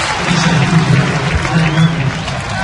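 Baseball crowd applauding Detroit Tigers pitcher Justin Verlander as he leaves the game in 2010, a steady broad wash of clapping and crowd noise with a low murmur underneath throughout.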